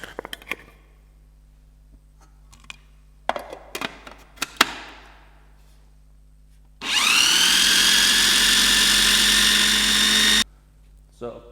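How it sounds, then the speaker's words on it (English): A blender whirs loudly and continuously for several seconds while whipping fresh orange juice, close up, with a high steady motor whine. Before it starts there are scattered clinks and knocks and some talking. "we need to blend the orange juice so it goes nice and fluffy"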